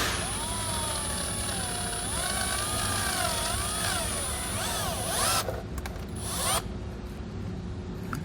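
A power drill enlarges a hole in a 2020 Jeep's panel for a Redarc Tow-Pro Elite trailer brake controller, a loud continuous whine that rises and falls in pitch as the bit bites, then cuts out near the end.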